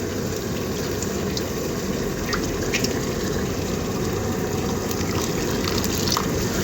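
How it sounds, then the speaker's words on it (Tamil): A dissolved masala mixture poured into a simmering ridge gourd gravy, giving a steady close-up liquid gush and bubbling that continues without a break, with no talking. "இப்போ வந்து கரைச்சி வச்சுருந்த மசாலாவை ஊற்றிடுவோம்"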